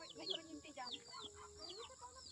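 A bird calls softly in repeated short clucking, chirping notes, close but faint, with quiet voices murmuring underneath.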